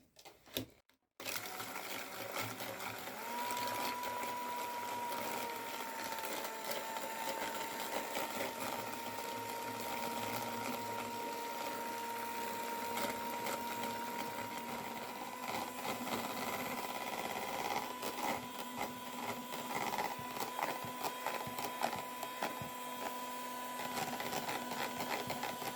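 An electric mixer whisks two eggs for a chocolate cake batter, a steady, even motor whir that runs without pause for the whole stretch, close and moderately loud, with no talking.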